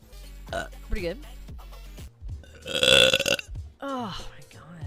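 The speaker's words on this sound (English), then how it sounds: "Good burp." A run of loud, drawn-out burps, one long throaty eructation in the middle, mixed with bursts of talk and voiced sounds.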